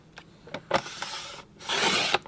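Scrapbook paper is cut in half with a paper trimmer, a few short scraping rubs followed by a longer slicing swipe near the end, close and fairly quiet with no talk.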